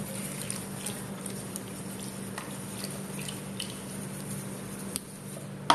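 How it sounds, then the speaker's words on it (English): Waffle batter made with egg, vanilla essence, milk and beer is mixed by hand, giving faint wet squishes and soft taps over a low steady hum, with a sharper knock at the very end. "Once all the liquids have gone in, you have to manually mix it up like that."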